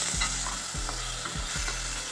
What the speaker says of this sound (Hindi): लहसुन हल्का सा फ्राई होने और खुशबू आने पर इसमें फिर चिकन डालकर फ्राई करेंगे।